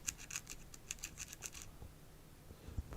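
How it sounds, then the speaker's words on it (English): Sandpaper scraping seeds to break through their hard outer shell, a series of short, crisp rasping strokes in quick bursts, close and fairly quiet, followed by a few soft handling knocks. "Just a few scrapes and we have broke through that outer shell"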